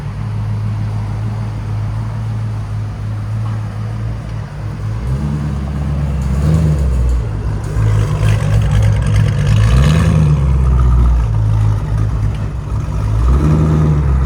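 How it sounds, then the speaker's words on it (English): A fully built BMW M5 F90 with a 4.4L twin-turbo V8 and downpipes idles loudly, then revs hard and pulls away, its deep engine note rising and falling in several strong surges. "He says he's gonna give us a badass drive off."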